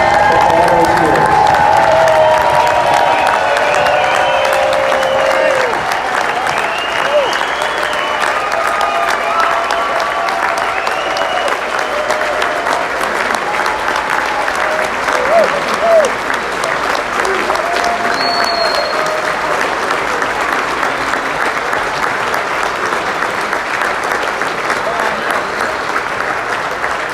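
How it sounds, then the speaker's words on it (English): Audience at a rock musician's tribute concert stands and gives a long, loud ovation, with continuous clapping, scattered cheers and a brief whistle rolling on for nearly half a minute. "can we also please stand and give Gigi a thank you round of applause"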